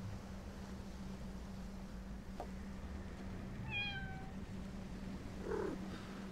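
A cat in the video game Deponia gives a single clear, falling meow over a faint steady background hum, followed shortly by a brief softer sound.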